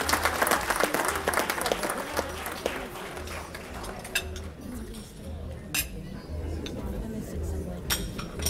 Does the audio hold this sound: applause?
yes